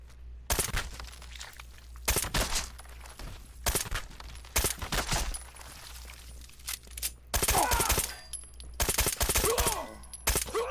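A large suppressed gun fired in Fallout 4, a series of muffled shots in irregular single and clustered bursts, separated by short quiet gaps.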